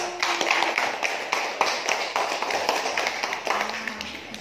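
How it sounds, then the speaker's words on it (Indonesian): A classroom full of people clapping, a steady patter of many hands that holds at moderate loudness across the whole stretch. "Tepuk tangan buat kesimpulan dari kelompok 1."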